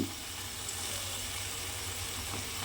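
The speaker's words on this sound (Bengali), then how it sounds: "ঘি আর গরম মশলাটা আমি এখানে দিয়ে দিলাম" Ghee and garam masala hitting a pan of cooking cabbage, giving a steady, soft sizzle and frying hiss with a low hum beneath it, with no voices.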